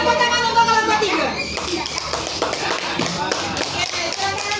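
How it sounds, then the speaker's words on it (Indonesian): A classroom of young children claps together for a group of pupils, a dense, rapid patter of small hands mixed with children's chatter and a teacher's voice, loud and close. "Oke, tepuk tangan untuk kelompok 3."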